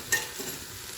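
Garlic sautéing in an Instant Pot, one quick scrape of the spoon followed by a brief, faint sizzle.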